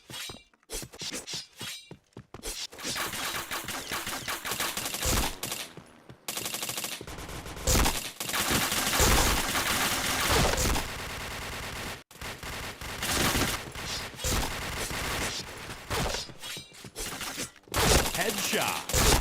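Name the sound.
gunfire in the video game Point Blank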